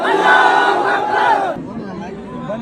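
A large crowd roars a religious slogan back at a rally leader's Nara-e-Takbir call, a loud massed shout that swells and then fades into a rumbling murmur of many voices.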